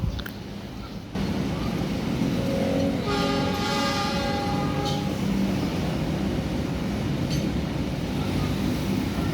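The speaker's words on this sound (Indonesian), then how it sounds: "Oke, kereta udah mulai jalan lagi menuju stasiun akhir, stasiun Surabaya Kota." A local passenger train rolls toward Surabaya Kota station, the last stop, with a steady loud rumble of the carriages and a horn blast sounding over it partway through.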